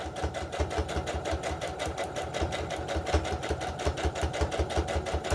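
A sewing machine runs steadily, stitching a quarter-inch seam around a homespun fabric heart-shaped Christmas ornament, with a fast, even mechanical rhythm heard up close and on its own throughout.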